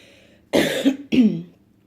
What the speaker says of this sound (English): I just have a lingering cough now